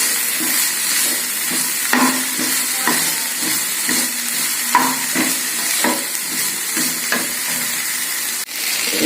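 Mint and coriander leaves sautéed in a pan, with a steady sizzle close by and a rhythmic scrape of the spatula about once a second, and no speech.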